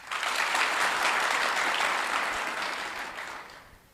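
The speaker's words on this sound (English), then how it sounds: "Let us give her another applause." Steady, dense audience applause at a formal government luncheon and debrief, honouring Kenya's National Security Advisor Dr. Monica Juma; loud and sustained throughout, tapering slightly toward the end, with no talk over it.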